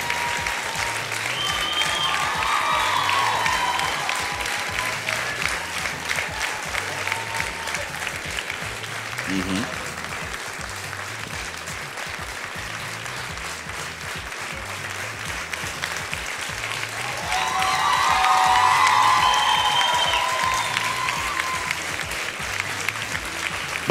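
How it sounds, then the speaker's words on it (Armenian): A TV show audience claps for the winners, sustained dense applause filling the hall and swelling near the end, with voices speaking over it at times. "Բարձր ծափարում եւ շնորհավորում ենք"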